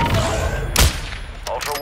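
Gunfire in the Call of Duty: Modern Warfare II video game: a loud close burst of shots lands near the middle of the clip and another follows soon after, over constant low battle rumble and faint radio-style voices.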